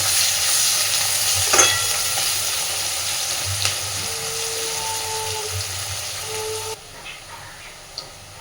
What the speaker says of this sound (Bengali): দেখুন পেঁয়াজটাকে বেশ ভালো করে লাল লাল করে ভেজে নিয়েছি